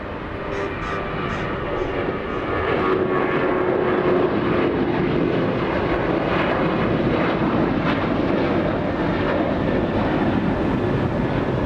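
A Boeing 747 approaching LAX roars overhead, its engine noise loud, broad and sustained with a rising tonal whine, steady and close throughout.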